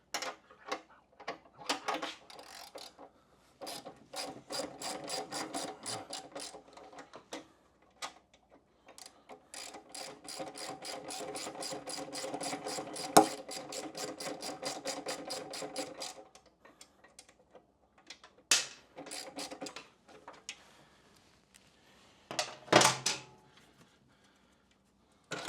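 A 9/16 wrench loosens a bolt on a Harley M8 Lowrider ST gas tank. Quick ratcheting clicks run in long rapid bursts with short pauses between them, close but fairly quiet.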